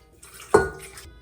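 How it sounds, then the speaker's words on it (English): Hot water poured into a stand mixer bowl over sugar and yeast: a sudden splashing gush that quickly settles into a softer trickling wash, close and moderately loud, with no voices. "Hot water."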